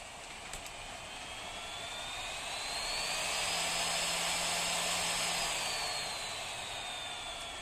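An HK 998D hot air rework station fan is turned up. Its close, steady blowing hiss swells in loudness and pitch over a few seconds, holds, then eases back slightly, with no talking.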